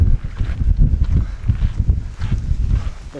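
Strong gusts buffet the microphone at a roadside viewpoint with a picnic spot in southern Spain, a loud continuous low rumble that surges and dips without pause.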